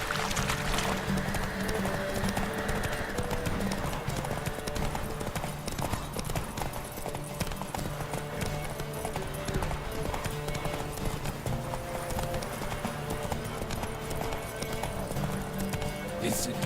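Horse hooves clip-clop in a steady galloping rhythm while riding in The Witcher 3, continuous and fairly close under game ambience, with voices talking over them at times.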